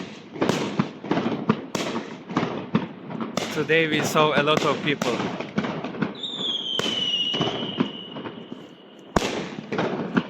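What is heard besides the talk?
fireworks and firecrackers at Chinese New Year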